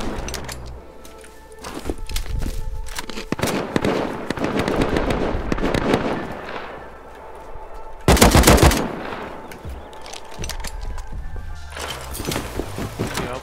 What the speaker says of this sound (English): They're going ham with that L9, bro. They're double L9ing.